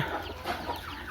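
Native country hens kept as parent stock cluck inside a coop, a steady overlapping chatter of several birds at moderate distance with no talk.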